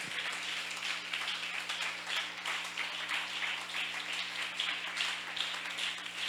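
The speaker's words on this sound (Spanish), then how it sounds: "A Él le damos un aplauso, hermanos." Church congregation clapping together, a dense, steady patter of many hands filling the room for several seconds with no talk over it.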